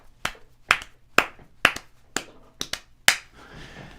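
Hand claps in a cover of a disco song, seven sharp, close claps at a steady, slightly uneven pace, loud and crisp with no voices.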